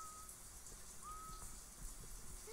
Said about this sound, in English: Somebody is whistling outside the house.